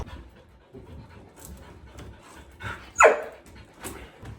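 A dog pants rapidly and steadily nearby while a fireplace surround is being removed, with one sharp snort or huff partway through and faint background clatter.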